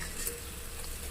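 An Ayurvedic herbal cold and cough remedy mixture boils in a pot, giving a soft, steady bubbling and hiss throughout, ending in a sharp click.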